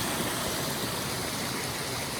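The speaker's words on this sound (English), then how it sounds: "We will be crossing this beautiful creek right here." A mountain creek on a Mount Hood wilderness trail rushes steadily, a dense, constant roar of flowing water close by, with no voices.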